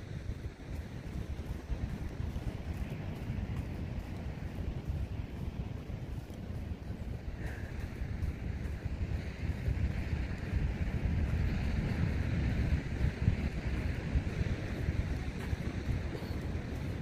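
Loud, steady ocean surf pounds the shore below the cliffs at Torrey Pines beach, a continuous broadband roar mixed with heavy wind buffeting the microphone throughout.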